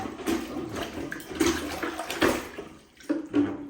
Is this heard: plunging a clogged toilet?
yes